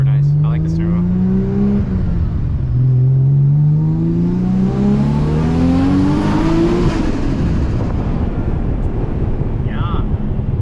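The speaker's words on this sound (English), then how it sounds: "Those stock burbles? RB burbles?" Inside a Millennium Jade Nissan Skyline R34 M-Spec Nür, the RB engine rises and falls through a couple of pulls before the note fades into a rushing wind noise, loud and close.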